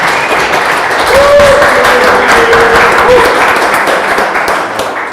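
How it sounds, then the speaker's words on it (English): An audience at a live modern poetry reading applauds for an author, a loud, dense and steady wash of clapping with no talk over it. "Please give a round of applause"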